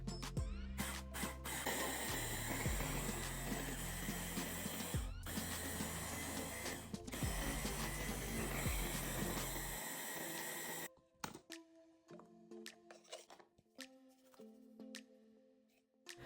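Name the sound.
grinding dried bath salt base into powder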